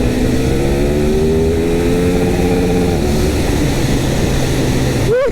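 A KTM 1390 Super Duke R Evo motorcycle engine drones steadily while riding, with wind rush throughout and the pitch climbing slowly before a sharp rise in revs at the end.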